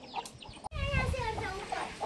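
Hens with small chicks clucking close by in a farmyard, soft repeated clucks and peeping calls, with a brief break before someone talks over them.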